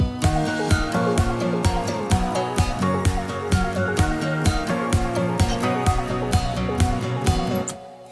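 Dance track verse: a punchy top kick and clap drive a steady four-on-the-floor beat under layered pianos stacked over a regular piano and a bright arpeggio, loud and continuous before cutting off near the end.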